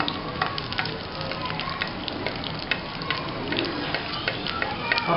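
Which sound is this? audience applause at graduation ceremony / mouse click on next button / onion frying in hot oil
onion frying in hot oil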